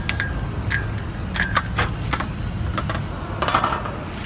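Metal washer and bracket hardware clink and rattle in short bursts as they are fitted onto a sign post and hand tightened, close by with light jingling between quieter pauses.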